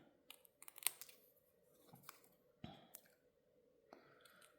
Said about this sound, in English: So let's just snip off a little bit there.